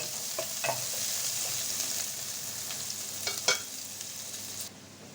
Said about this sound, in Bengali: পেঁয়াজ আমি লাল লাল করে ভেজে নেব